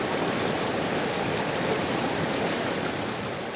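Whitewater on the Kings River rushes in a steady, dense roar, loud and close, with no voices.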